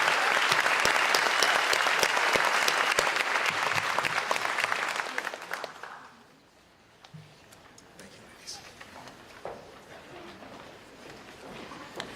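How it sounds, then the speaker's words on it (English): Banquet crowd applauds the 2024 ladies state champions at a school athletic awards dinner, a loud, dense wash of clapping for about six seconds that fades into quiet room murmur and scattered sounds. "If we could have one more round of applause for your 2024 Ladies State Champions"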